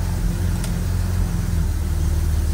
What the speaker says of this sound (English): Let's just try running through a couple gears again.